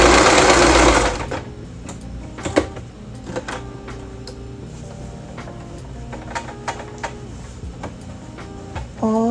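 Sewing machine stitching a satin lining into a knit beanie: loud steady run for the first second, then quieter intermittent stitching with ticks and whirs, with no talk.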